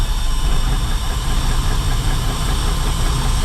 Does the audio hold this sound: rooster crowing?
no